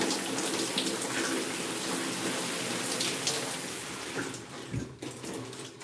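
During a wash and go, water pours through hair and drenches it. The flow is a close, continuous splashing rush, like a running tap, that thins out near the end.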